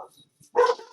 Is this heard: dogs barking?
yes